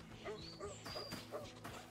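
Dogs bark and yip in the Stalker Online game, several quick barks in a short burst over a steady low in-game hum, fairly close and clear.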